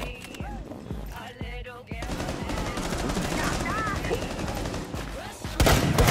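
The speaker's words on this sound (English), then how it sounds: "I'm getting shot." Rapid automatic gunfire and scattered shots from a video game shooter fill the whole stretch, dense and loud, with a burst near the end; a player talks over the action.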